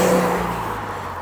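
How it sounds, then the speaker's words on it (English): A car rolls past on a snowy, unplowed street in Halifax's north end in February, a close, loud broadband whoosh of engine and tires that fades quickly as it goes by. "this car is going to let me go because there's no"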